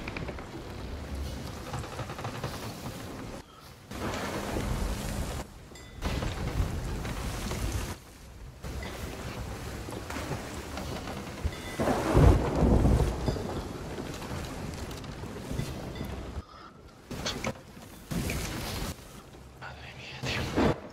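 A stormy sea in the video game Sea of Thieves, with gusting wind, rain and rushing water around a ship, surging in loud bursts with heavy low rumbles and broken by sudden silent cuts, while people talk over it.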